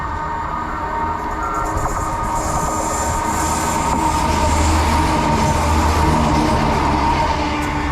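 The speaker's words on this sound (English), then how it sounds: "as well as a CrossCountry Turbo Star heading in" A CrossCountry Turbostar train arrives at a platform in Cambridgeshire, a loud, continuous rumble of wheels on rails with a low diesel drone and faint squeal, steady throughout with no talking.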